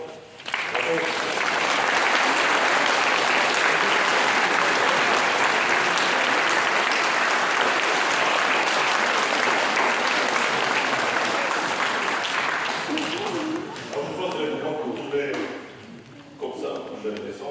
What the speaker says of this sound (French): on peut s'applaudir les uns les autres